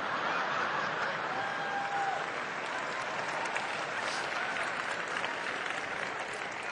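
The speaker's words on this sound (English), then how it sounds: "It's so funny that you would applaud at that" Audience at a stand-up comedy show applauding steadily and loudly throughout, a dense wash of clapping hands with scattered chuckles.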